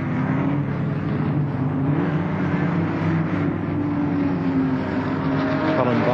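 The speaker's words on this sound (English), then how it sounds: "Colin Bond overtaking another car in the Escort driven by Lyndon Arnell of Queensland" Racing cars roar together on a rain-soaked circuit at the 1973 Warwick Farm touring car race as a Ford Escort overtakes, a steady dense engine drone filling the whole stretch with no break.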